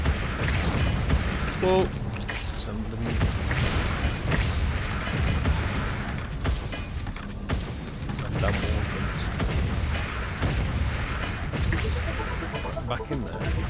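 Heavy, booming explosive shots in the video game Wallworld, several thuddy blasts spaced across the stretch amid mechanical game noise, with someone talking over them.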